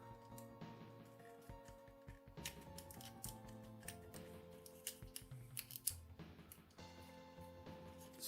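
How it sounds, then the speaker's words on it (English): Plastic parts of a Transformers Cybertron Deluxe Class Snarl toy slide and click along their tracks, a run of close, crisp scraping clicks and snaps continuing throughout without speech. "Then you're going to want to slide the arms on their tracks."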